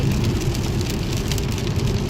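Rain falls steadily in a dense, even hiss at close range, with no voices.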